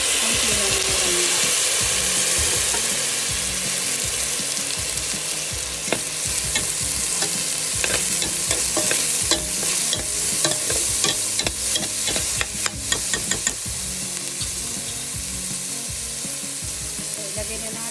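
Vegetables such as squash, long beans, petchay and eggplant are sautéed in a pan with a strong continuous sizzle, while a utensil scrapes and taps against the pan in bursts toward the middle; no one speaks.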